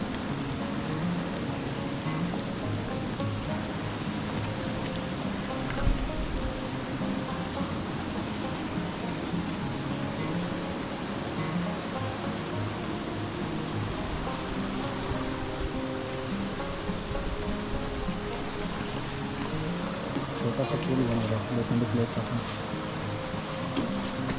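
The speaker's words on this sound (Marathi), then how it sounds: "खळाळून वाहणाऱ्या ओढ्या नाल्यांचे संगीत ऐकत" Steady, dense rushing of water throughout, a continuous broadband wash like streams flowing nearby, with no voices.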